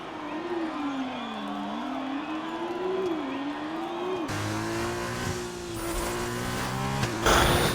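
A race car laps the Sakhir circuit in a racing video game, its engine holding a loud, continuous whine that dips and climbs through gear changes, with brief tyre squeal and scraping near the end.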